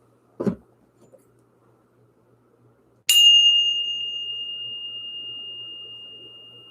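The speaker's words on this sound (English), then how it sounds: "Let's go ahead and ring the bell." A single struck bell rings out in a quiet room, a clear tone that lingers and slowly fades, preceded by a soft knock.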